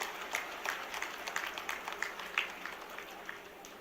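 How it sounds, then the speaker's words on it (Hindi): At a panchayat gathering held at the Chief Minister's residence in Bhopal, a crowd gives a dense patter of overlapping hand claps to welcome the Chief Minister, heard from a moderate distance. "जोरदार तालियों के साथ माननीय मुख्यमंत्री जी का अभिनंदन करें, स्वागत करें"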